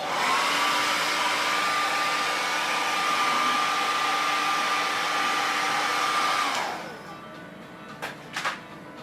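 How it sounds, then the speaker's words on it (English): A loud, steady whirring blow dryer drying paint runs close by for several seconds, then shuts off, leaving a few faint clicks and taps. "So I'm going to hit it with the blow dryer again"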